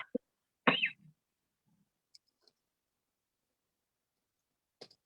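A single short cough breaks the quiet, followed by a few faint clicks and small mouth sounds in an otherwise silent room.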